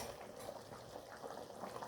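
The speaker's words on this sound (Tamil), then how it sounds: "குழம்பு நல்லா கொதிக்குது." Country chicken curry (nattu koli kulambu) bubbles at a steady, rolling boil in a pot, a continuous soft burbling heard up close.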